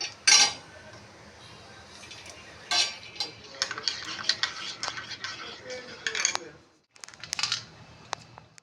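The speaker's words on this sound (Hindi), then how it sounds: "ये देखो बर्तन पड़ा हुआ था वो धोया है मैंने" Utensils being washed during kitchen cleaning clink and clatter against one another in quick, irregular bursts, fairly quiet and close, with brief pauses between knocks and no talking.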